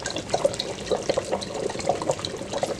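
About two tablespoons of Worcestershire sauce are poured into an oxtail stew in a power pressure cooker. Soft liquid splashing and trickling sounds come in small irregular bursts, close and fairly quiet.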